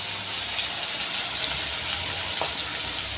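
Food frying in well-heated oil, a steady bright sizzle with dense crackling and no talk.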